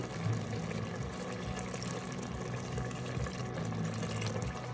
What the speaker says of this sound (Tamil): இன்னும் ஒரு 1/4 கிளாஸ் தண்ணி போடுறேன் இதில்